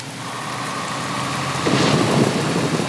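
Heavy rain falls on a muddy dirt road in the truck-driving game Universal Truck Simulator, a steady broad hiss over a low idling truck engine, swelling slightly toward the end.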